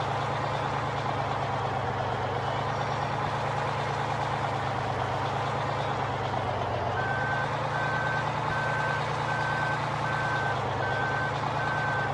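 Steady reversing beeps from a truck in Farming Simulator 15, evenly spaced and repeating over the low hum of an idling heavy diesel engine, with no talk.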